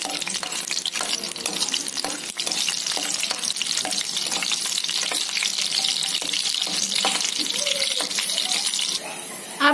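Garlic frying in oil in a pan for a Hyderabadi tamarind dish, a steady bright sizzle and crackle running throughout, close and fairly quiet.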